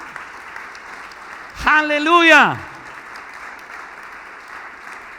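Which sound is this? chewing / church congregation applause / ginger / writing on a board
church congregation applause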